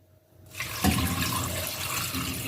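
Water pours steadily into a pan holding jaggery after a brief quiet moment, a continuous splashing rush with a small clunk near the start.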